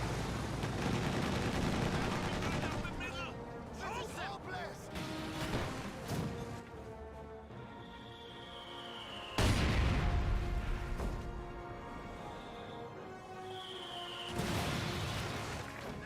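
M15 half-track guns fire in Company of Heroes 2 amid a battle, with rattling bursts, heavy booms and crashes rising sharply around two points, under a steady commentating voice and tonal game sounds.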